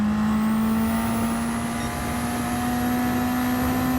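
A car in the Gran Turismo 7 racing game accelerates on nitrous, its engine holding a loud, steady, high whine that climbs slowly in pitch without a break.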